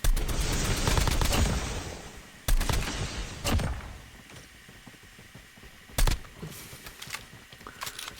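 A Man-O-War rifle with thermite rounds fires in a video game: loud, close bursts of rapid shots at first, then separate single cracks and short volleys spaced through the rest.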